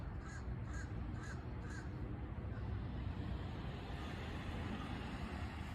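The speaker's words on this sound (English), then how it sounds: "And the crows are out looking for food." Four short caws from crows outdoors, evenly spaced in the first two seconds, fairly distant over a steady wash of traffic and outdoor noise.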